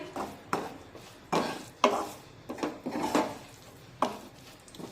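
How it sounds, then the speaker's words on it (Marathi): A spoon stirs and scrapes a dry capsicum stir-fry with coriander and crushed roasted peanuts in a pan, a few distinct scraping strokes at an uneven pace, close and moderately loud, no talking. "मिक्स करून घेऊया"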